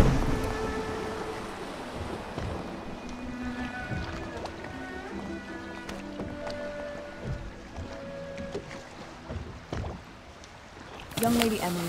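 Water sloshes and laps steadily around a moving boat in Dishonored, with soft background music and a brief voice near the end.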